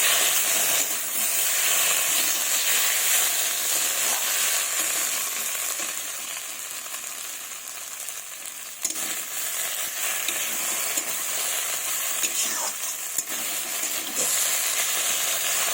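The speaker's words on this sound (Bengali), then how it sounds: "সব মশলা আমি দিয়ে দিয়েছি। এবার ভালোভাবে কষিয়ে নেব।" A spice paste of ground dried chili, ginger and cumin frying in a pan, with a loud continuous sizzle and hiss and occasional scrapes of stirring, steady throughout with no talk.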